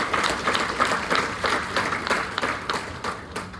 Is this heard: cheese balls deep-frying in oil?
no